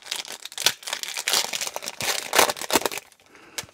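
Foil trading card packs of 2021 Chronicles baseball being torn open by hand, a close crinkling and ripping with bursts of sharp tearing and rustling wrapper, no talk.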